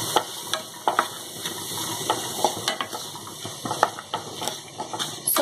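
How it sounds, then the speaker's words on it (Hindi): Peas frying with spices in a pan for veg soya keema, a steady close sizzle broken by frequent scraping and clinking stirs, with no talking. "मटर को भी थोड़ा हम भून लेंगे मसालों के साथ में"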